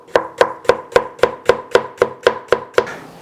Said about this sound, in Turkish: Bir tane de soğan doğrayalım.